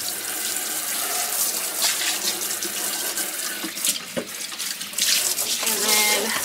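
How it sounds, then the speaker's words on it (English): A kitchen faucet runs into a sink while a cutting board is rinsed under it, producing steady splashing water with a few clunks and shifting splatter as the board moves. "let's rinse that off."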